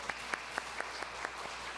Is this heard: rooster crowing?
no